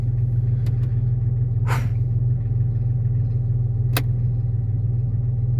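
A Jeep Cherokee engine idles steadily after a manual transmission swap, a close, even low rumble throughout, broken only by a couple of brief clicks and a short whooshing hiss.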